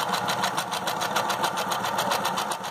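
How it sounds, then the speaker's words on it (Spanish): A sewing machine runs a zigzag stitch along the edge of cotton fabric, making a steady, rapid, rhythmic mechanical whir and clatter that is loud and close, with no voices. "Paso dos veces la máquina de coser."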